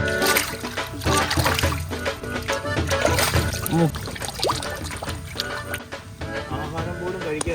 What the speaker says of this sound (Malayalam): നല്ല ഒഴുക്കുള്ള ആറ്റി വെള്ളത്തിൽ കഴുകിയെടുക്കാം